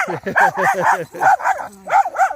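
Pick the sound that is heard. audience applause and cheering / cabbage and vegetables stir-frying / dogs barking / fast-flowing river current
dogs barking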